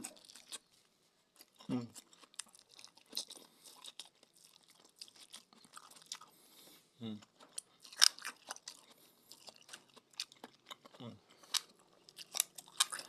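Crisp, crunchy chewing of raw banana heart during a mukbang, close and quiet, with repeated bites and wet crunches across the stretch and brief vocal sounds in between.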